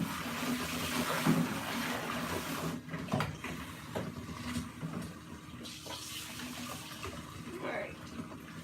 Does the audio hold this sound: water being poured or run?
yes